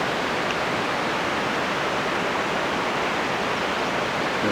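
The Nandakini river rushes at the Nandprayag confluence with the Alaknanda in the Himalayas, a dense, steady roar of flowing water with no pauses or voices.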